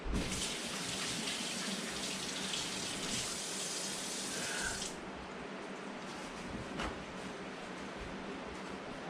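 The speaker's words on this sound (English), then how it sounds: "Rinse off the hands." Tap water runs steadily into a sink while hands are rinsed, a continuous rushing hiss that cuts off halfway through, leaving faint room noise.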